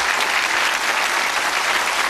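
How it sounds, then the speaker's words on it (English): A quiz show studio audience gives a big round of applause after a £64,000 win, producing a dense, even wash of clapping that stays loud and constant throughout. "give Irene a huge round of applause."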